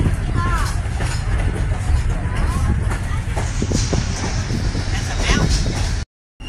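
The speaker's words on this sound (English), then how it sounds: "There's a CSX train right there. It's intermodal containers." A CSX intermodal container freight train rolls by at night near Cumberland, Maryland, a steady rumble with rail clatter throughout, close and loud, while people talk over it.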